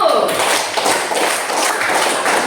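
A school class claps hands together in a fairly loud, dense burst of rapid clapping that continues evenly for a couple of seconds without anyone speaking.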